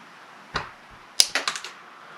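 Cutters snip the rubber skirt of a bass fishing jig down close to the bait, giving a sharp click followed by a quick cluster of small crisp snips, close up and otherwise quiet.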